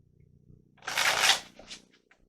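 Tarot cards riffled and shuffled in a short close burst, a papery flutter lasting about half a second, then a few lighter flicks as cards are handled and set down, with no talking.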